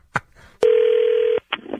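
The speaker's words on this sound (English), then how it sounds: "Call him back, Cat." A telephone dials out to return a call: a short tone, then one long steady keypad beep lasting most of a second, then another quick blip with faint background noise.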